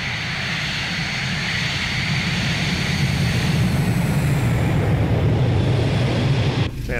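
Boeing 727 jet engines at full takeoff power in a flight simulator game, a loud, steady roar and whine that holds throughout, with a brief dip at the end.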